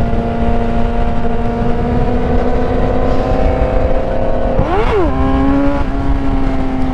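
A Ford Mustang GT engine drones loud and close at steady revs, then swoops up sharply in a quick rev before settling back to a high, even tone.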